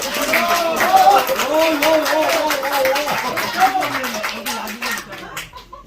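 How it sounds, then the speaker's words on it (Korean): An audience at a year-end gathering in Incheon applauds, a dense patter of clapping that carries on for several seconds and fades out at the end, with a voice speaking over it. "큰 박수 한번 보내주세요."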